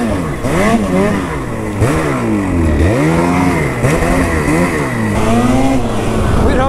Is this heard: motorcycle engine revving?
yes